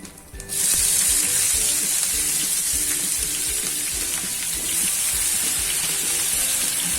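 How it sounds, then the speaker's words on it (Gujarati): Onions sautéing in hot oil with cumin seeds and curry leaves for a bottle gourd curry, a loud steady sizzle with crackling, close by, with no voices. "જીરું ફૂટી જાય એટલે આપણે ડુંગળી સાતળી લેશું."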